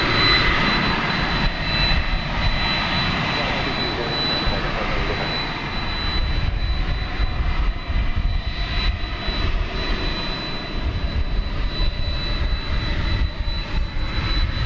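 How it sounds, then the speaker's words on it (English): Boeing 787 Dreamliner jet taking off from a runway at DFW International Airport, a loud, continuous roar of jet engines that fills the whole stretch. "You can see that Trans-Pacific Dreamliner taking up just a wee bit more runway than the MD-11 did."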